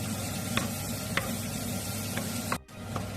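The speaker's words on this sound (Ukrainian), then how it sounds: "Зараз додамо одну цибульку я порізала. Будемо помішувати." Chopped onion frying in rendered pork fat in a pot for Transcarpathian bograch, a dense steady sizzle with a few sharp spoon scrapes against the pot, close up, ending in a brief dropout.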